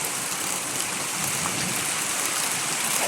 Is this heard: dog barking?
no